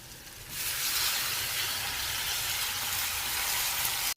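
Hadga flowers with turmeric and salt sautéing in a pan, a loud steady sizzle and hiss that jumps up after half a second and continues without break, with a brief clunk at the end.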